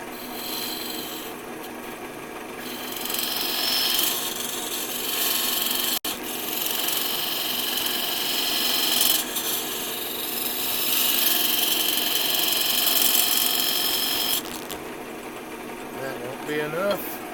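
Woodturning tool being sharpened to raise a burr, a continuous grinding rasp that surges and eases over several passes, close by, with a few short pauses.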